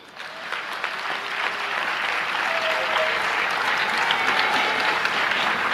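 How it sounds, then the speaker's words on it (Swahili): A large audience applauds at a Tanzanian public event attended by former president Kikwete and President Samia, with dense, steady clapping building in the first moment and then holding at full, even strength throughout. "Mpigieni makofi."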